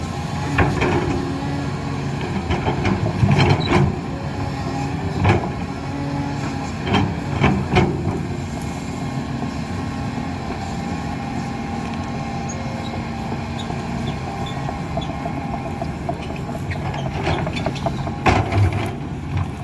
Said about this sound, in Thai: อันนี้รถไถแลนด์ลูก